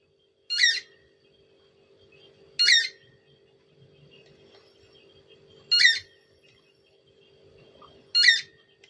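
A multimeter with a weak battery beeps each time its button is pressed, giving four short, chirpy, bird-like tones spaced a couple of seconds apart over a quiet background.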